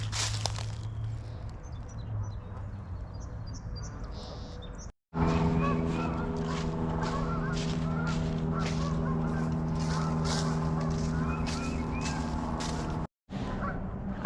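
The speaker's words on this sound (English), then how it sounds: "the geese are very active out there today. You can hear them honking in a lot of my shots." Geese honking by the Delaware River at Washington Crossing, a busy chorus of repeated calls at moderate distance, steady over a low background hum, with brief cuts in the sound.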